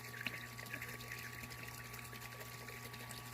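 A WRSTER-TECH air pump bubbles and stirs water in a garden pond, a faint steady trickle and fizz over a constant low motor hum.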